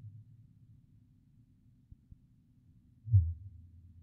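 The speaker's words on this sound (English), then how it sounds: "fin whales are my favorite whale. And I will play you their song now." Fin whale song played back five times faster than real time, a faint low pulsing like a heartbeat, with a couple of soft thumps and then one stronger deep pulse over a quiet hiss.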